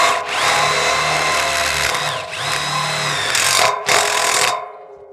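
A power drill pre-drills holes into wood while conduit runs for an off-grid solar PV system are laid, giving a close, loud, steady whirring grind that dips briefly and resumes, then ends in a final burst before stopping.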